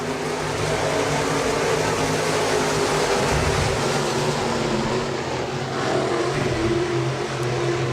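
Stock cars race at Park Jefferson Speedway, engines droning loudly and continuously as the pack circles, with a rising and falling roar of several cars running close together.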